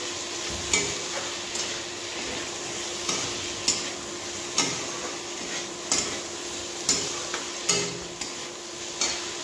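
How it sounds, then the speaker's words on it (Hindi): Soya chunks fry in roasted masala in a pan with a continuous sizzle. A spoon scrapes the metal in regular strokes, making a repeated clacking beat, and no voice is heard. "मसाला भुनने के बाद सोयाबरी डाल देंगे।"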